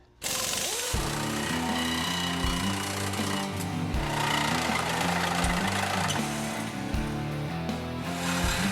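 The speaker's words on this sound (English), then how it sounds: "we're going to cut it off here in front of the mufflers" A power tool cuts through a car's exhaust pipe just ahead of the mufflers, a loud, continuous buzzing drone with pulsing, shifting pitch that runs throughout.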